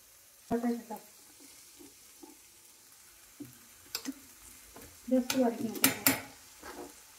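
Boiled peas and boiled, cut potatoes being stir-fried in a pan for a mixed vegetable dish: scattered bursts of spatula scraping and clatter over a faint sizzle, with quiet stretches and some faint talk.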